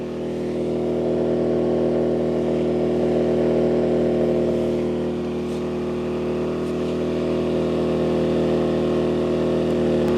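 A small inverter generator engine drones steadily and loudly up close under load, holding an even pitch with a slight swell midway and no stalls or stutters.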